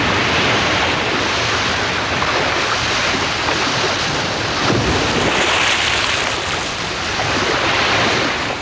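Strong surf breaks on a steep beach in a steady, loud roar of crashing waves and washing water, with rushing wind noise and a brief swell near the middle.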